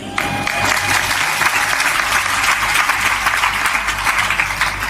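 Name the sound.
audience clapping loudly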